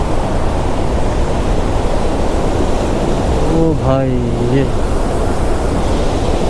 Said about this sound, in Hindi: ये देखो भाई ऊपर से पानी आ रहा है, और पानी का प्रेशर देखो बहुत खतरनाक है